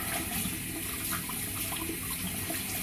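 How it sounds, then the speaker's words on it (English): Running tap water steadily pours over a shaving brush being rinsed of soap lather in a sink, a continuous close splashing hiss lasting throughout with no talking. "So I'll go back and rinse it a little bit more."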